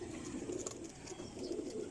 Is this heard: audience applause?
no